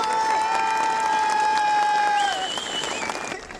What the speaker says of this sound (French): Vous pouvez tous applaudir.